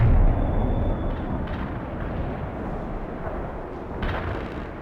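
Incoming artillery fire in the video game World in Conflict comes as a dense rumbling barrage with a few sharper bursts, one stronger impact near the end, and no voices.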